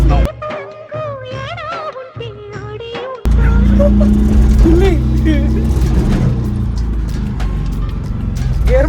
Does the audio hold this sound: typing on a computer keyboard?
no